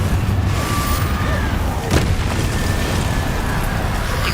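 Spell explosions in the Hogwarts Legacy video game, a dense rumbling roar that stays loud throughout with a sharper burst near the middle, against busy game noise.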